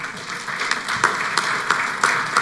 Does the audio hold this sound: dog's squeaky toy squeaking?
no